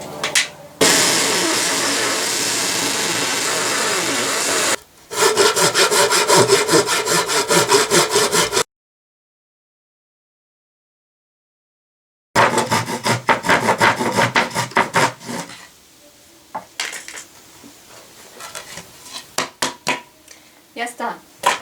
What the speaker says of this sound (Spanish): así ya podemos introducir el serrucho por ese agujero y cortar